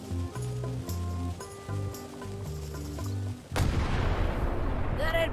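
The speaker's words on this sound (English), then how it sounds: "Ready for cannon firing." Background music plays in the video game Return to Monkey Island before a cannon fires with a sudden loud booming blast that rumbles on to the end of the clip.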